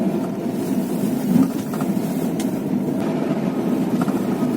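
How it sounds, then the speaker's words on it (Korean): Strong wind buffets the microphone at a coastal fishing spot on Jeju Island in winter, a loud steady low roar with slight gusty swells and no talk. "바람 열나 부는구만요"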